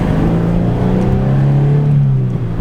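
Corsa aftermarket exhaust on a Subaru BRZ / Scion FR-S / Toyota GT86 sports car drones loudly up close at steady high revs, a deep throaty tone rising and falling slightly before easing off.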